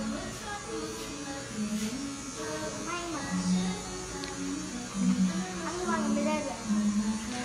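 Electric hair clipper buzzing through a haircut at a salon, a steady close hum that rises and dips as the blades move, with people talking over it.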